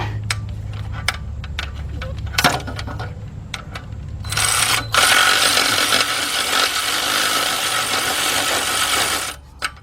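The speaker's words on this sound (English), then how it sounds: "Let's get our cordless ratchet." Cordless ratchet on a bolt during a Chevy Equinox / Buick Rendezvous engine rebuild: scattered metallic clicks and clinks, then a sustained loud buzzing whir of the motor running for several seconds before stopping, close up.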